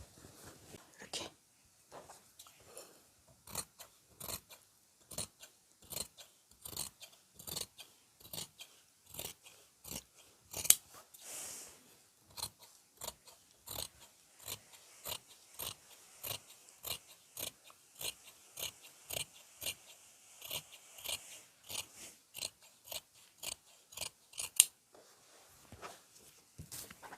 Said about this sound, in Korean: 곡선이 많이 진 부분 자를 때는 가위를 크게 열지 말고 조금씩 열어서